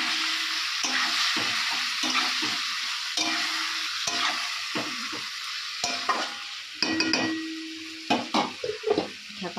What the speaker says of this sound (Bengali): আর চিকেনের আলুগুলো ভাজা হচ্ছে